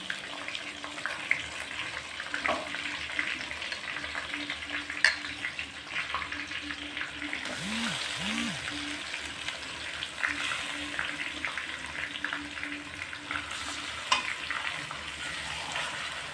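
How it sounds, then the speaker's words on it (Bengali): Marinated chicken for korma frying on a stovetop, with a steady broadband sizzle running throughout at moderate, even loudness and occasional stirring clatter, with no talking. "তো আমরা চুলায় ম্যারিনেট করা মাংসটা দিয়ে দিতেছি।"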